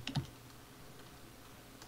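A computer keyboard is typed on during a Minecraft Hunger Games match: a quick close burst of keystrokes at the start, then a few faint scattered clicks in a quiet room.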